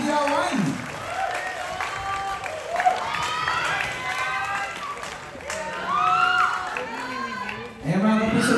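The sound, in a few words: audience applause at a media conference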